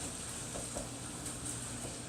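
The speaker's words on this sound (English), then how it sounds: "You can hear the burger starting to stop sizzling so much now, because I cut the heat off on it." A burger sizzles and fries in a hot pan after the heat is cut, a steady crackling hiss with faint pops running evenly throughout, no voices.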